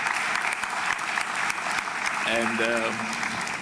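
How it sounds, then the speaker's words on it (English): A general assembly hall in Kinshasa applauds FIFA's Gianni Infantino, steady dense clapping throughout, with a brief amplified voice or music tones rising midway over the crowd. "Can we please clap hands for our brother Gianni Infantino?"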